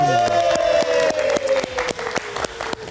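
Rhythmic clapping from an audience, steady and loud, with a bright sustained musical tone sliding downward underneath.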